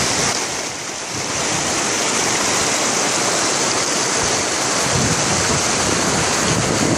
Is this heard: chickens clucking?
no